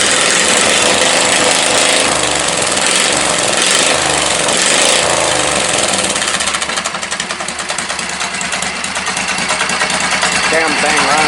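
A 670cc V-Twin Briggs & Stratton engine runs loud and close with a rough, steady throbbing roar that eases slightly partway through; a voice is heard over it.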